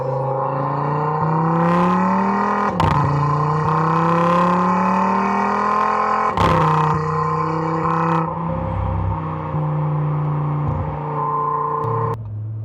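An Audi RS3 fitted with an ECS valved exhaust pulls through the gears at quarter throttle around 4,000 RPM in manual mode, its steady droning note rising and then dropping at several distinct upshifts, loud and continuous from inside or near the car.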